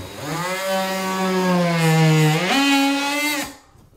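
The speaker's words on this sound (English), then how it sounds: "This half moon blade is a drywall saw blade." An oscillating tool fitted with a half-moon drywall saw blade cuts into drywall while adding a fridge receptacle, making a close, steady, high-pitched buzzing whine that rises in pitch midway and stops abruptly near the end.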